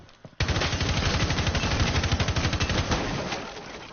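Rapid automatic gunfire in a hunting video game, with a long, dense burst of closely spaced loud shots that starts abruptly and then trails off.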